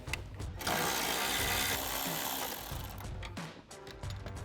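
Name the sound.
10 mm socket wrench removing bolts from Mustang grille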